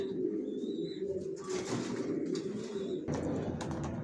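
Racer pigeons coo in low, throaty, rolling phrases close by, with a brief higher chirp and some faint rustling in the background. No one speaks.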